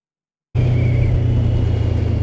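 A motorcycle on the road, heard from the rider's position with a steady, loud low engine drone and wind rush that starts abruptly and holds constant, with no talk.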